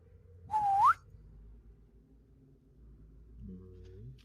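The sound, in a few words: imitated questioning whistle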